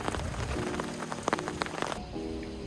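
Rain pours steadily over a cold campsite at night, a dense, even hiss of drops on surfaces with a few louder nearby taps, continuous and close throughout.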